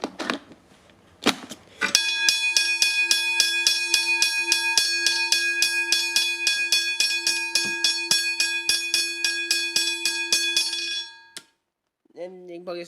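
A level crossing bell rings continuously in rapid, even electric strikes for about nine seconds before cutting off, preceded by a couple of clanks and followed by brief talk.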